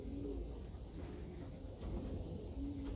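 Racing pigeons coo softly, with low repeated burbling calls from a few birds close by over a quiet background.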